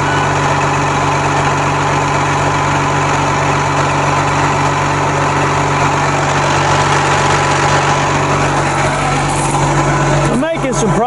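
A Tigercat L830C forestry machine cutting trees on a hillside runs with a loud, steady engine drone throughout. A brief mechanical clatter breaks in near the end.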